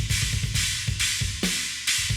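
Uncompressed drum kit heard through mono overhead microphones, a steady groove of cymbal wash and hats with regular snare and kick hits, played alone with no voices.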